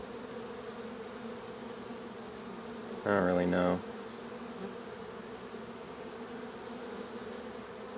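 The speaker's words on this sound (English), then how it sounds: "Just a bunch of bees eating honey." Honey bees in an opened hive holding only honey and no queen, a steady low buzzing hum throughout, with a person speaking briefly over it partway through.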